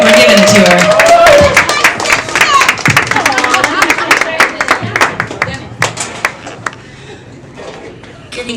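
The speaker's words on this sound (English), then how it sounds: "So if she just takes her time, then we just keep on clapping." Audience applause at a Pittsburgh poetry night, a dense wash of many hands clapping with some cheering, loud at first and then thinning into scattered claps that fade out toward the end.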